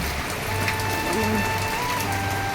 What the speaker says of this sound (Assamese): এইয়া ধাৰাসাৰ বৰষুণ দিলে বাইটোৰ অৱস্থা আলনি